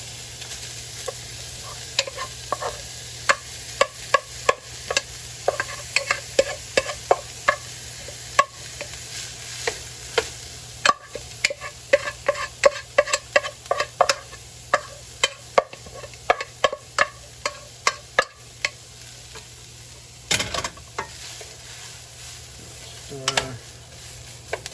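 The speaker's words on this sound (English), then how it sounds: "We're going to add our rice." Rice stirred into browned beef in a sizzling frying pan, with a steady fry hiss under repeated scraping strokes of a utensil against the pan in an uneven rhythm, loud and close.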